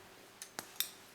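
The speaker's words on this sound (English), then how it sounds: "then I'll cut this yarn" Scissors snip through yarn at the end of a crochet row in a quiet room, three faint, sharp clicks spaced a fraction of a second apart.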